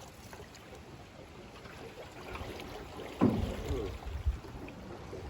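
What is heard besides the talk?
canoe paddling through river rapids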